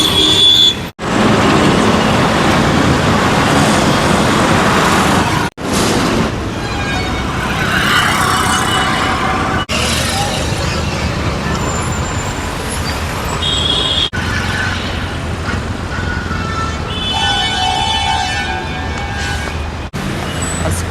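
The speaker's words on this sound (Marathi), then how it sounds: "जाम ट्रॅफिक आहे आज, कशामुळे काय माहीत नाही, पण एवढे ट्रॅफिक नसते." Heavy jammed road traffic on a city street in Pune, a dense continuous rumble of cars, buses and engines with faint horn tones, steady and loud throughout with brief dips, and no talk.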